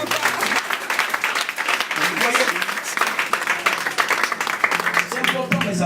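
A church congregation bursts into sustained applause, dense rapid clapping with scattered voices, steady and fairly loud across the whole stretch.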